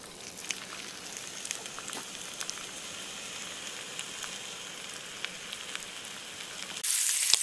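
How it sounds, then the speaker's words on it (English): Beef shank browning in melted butter in a Dutch oven, a steady crackling sizzle with scattered pops, close and even throughout, swelling louder in the final moment. "now I'm going to brown all the sides in the melted butter"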